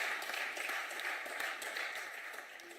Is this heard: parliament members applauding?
yes